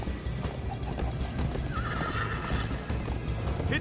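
Horse hooves clip-clop steadily throughout while a horse whinnies partway through, all fairly loud and close, with no talking.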